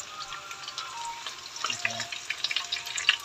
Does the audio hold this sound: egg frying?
yes